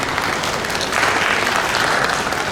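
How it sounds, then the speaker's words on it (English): Applause fills a parliamentary hearing room, a continuous crowd clapping at moderate loudness that grows a little fuller partway through. "So you have to clap for yourself"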